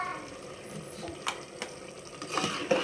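Coriander powder and garam masala being roasted in a pan, heard as a soft sizzle with a few faint scraping stirs of a spoon against the metal, fairly quiet.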